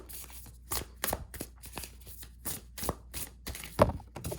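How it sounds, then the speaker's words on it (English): A Wild Unknown Tarot card deck is shuffled by hand at a table, with a series of separate riffling bursts repeating roughly every half second at close range, and no one speaking. "I'm going to shuffle and see what cards come"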